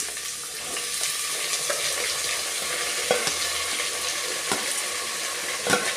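Chopped snake gourd fries with onion in a pan, giving a continuous close sizzle broken by scattered scrapes and knocks as a spatula stirs it.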